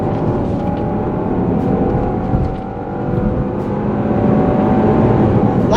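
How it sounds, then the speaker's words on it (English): A 2026 Genesis GV70 Sport Prestige SUV with a 3.5L twin-turbo V6 driving in Sport Plus mode, a steady loud engine drone with road and wind roar from inside the cabin, dipping briefly and then building again. "driving the Genesis GV70 Sport Prestige in Sport Plus mode."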